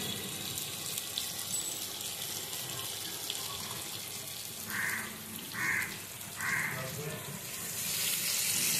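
Water goes into a frying crab and new potato curry, an ongoing sizzle broken by a few short pouring gushes and rising steam near the end.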